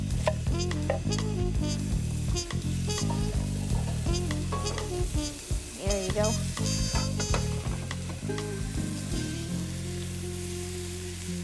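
Food sizzles and spatters in butter in a hot pan, with crackling pops and occasional stirring over a backdrop of music; a voice speaks briefly.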